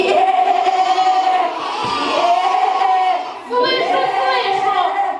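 A crowd of children at a kindergarten puppet-theatre show imitate sheep bleating together, loud, wavering 'baa' cries in several drawn-out bursts with a short pause between them.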